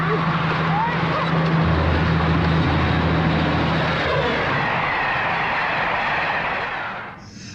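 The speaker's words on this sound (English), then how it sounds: "the other kids run away from the approaching train" A train approaches in an old public information film, a loud sustained broadband rumble with a low steady hum, steady through most of the clip and easing off at the very end.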